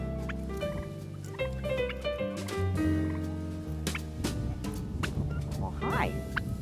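Turkeys on a farm raised for Thanksgiving gobble repeatedly in a busy, loud chorus of overlapping calls, near and continuous, with a voice faintly in the mix.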